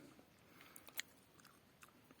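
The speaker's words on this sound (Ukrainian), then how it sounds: "шкурочка хрумтить." Quiet, close chewing with a few brief crisp crunches as the slightly tough skin of juicy Isabella-type grapes breaks, scattered over soft mouth sounds.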